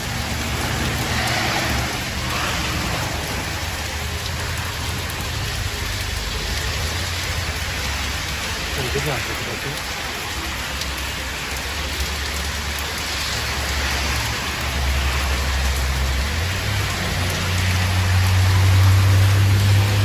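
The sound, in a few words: heavy rain shower pouring on a boulevard, Saguenay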